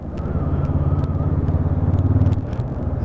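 A 2020 Honda CB500F motorcycle being ridden: a steady, close engine drone with a throbbing low rumble that holds even throughout, with no voices.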